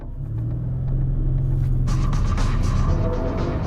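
An Audi RS7 drives fast on a country road in Germany, a deep, loud engine rumble that swells as the car pulls harder, with rising road and wind roar in the second half.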